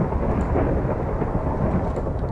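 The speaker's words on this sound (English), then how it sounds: "It's raining here constantly." Rain and thunder in Minecraft, a loud dense rumble with rainfall noise rolling steadily throughout, no speech over it.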